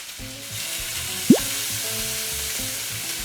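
Garlic and onion fry in a pan for beef pares, a steady hiss under soft background music, with a brief clatter of stirring partway through.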